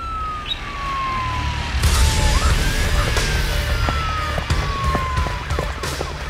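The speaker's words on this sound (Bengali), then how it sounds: "ঠিক তখনই বাইরে পুলিশের সাইরেন বাজতে শুরু করলো।" A police siren wails in long, slow sweeps that fall and rise again, loud and fairly close, with a few sharp knocks and clatters over a low rumbling background.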